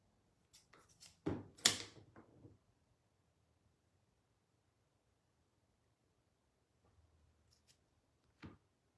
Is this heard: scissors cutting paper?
yes